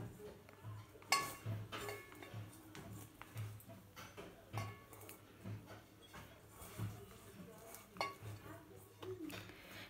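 Bhatura dough is mixed with curd in a bowl, producing a steady series of soft scrapes and light clinks of utensil against the bowl. The sounds are fairly quiet, and a voice talks occasionally over them.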